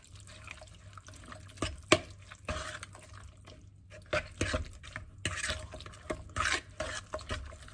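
Drained pineapple gets stirred into a vegan pie filling in a bowl, with wet, squelching scrapes in uneven strokes, near and moderately quiet, with no talk.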